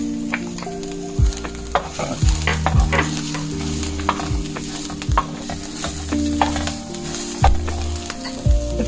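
Carrots sizzle steadily in a frying pan while a utensil stirs them, with repeated scraping strokes against the pan cutting through the constant hiss, close and fairly loud, no voices.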